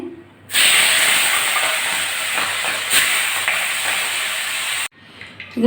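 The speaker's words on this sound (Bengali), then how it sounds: "কড়া বসিয়ে দিয়েছি তেল গরম হয়ে গেছে আর প্রথমে আমি মাছের মাথাগুলো ভেজে নেব" Pieces of hilsa fish head drop into hot oil in a kadai and burst into a loud, sustained sizzle that roars for about four seconds before cutting off sharply.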